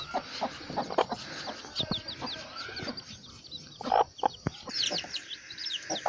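Hens and young chicks cluck and cheep inside a backyard aviary of free-range birds, with repeated short calls close by, busy and overlapping, plus occasional sharper bursts.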